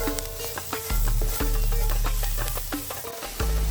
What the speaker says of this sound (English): Then throw in your garlic paste and cook it for about a minute.